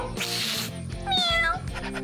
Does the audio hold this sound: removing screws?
no